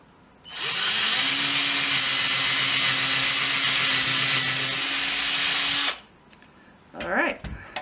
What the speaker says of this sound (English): and then we'll drill a hole on the other side as well.